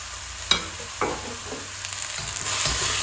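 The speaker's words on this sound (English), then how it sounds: "Now I want to add the onion and carrot back in." Onion and carrot stir-fry in a wok on a domestic cooker, a sharp clatter as they go in, then a close crackling sizzle with repeated spatula scrapes and tosses, no voices.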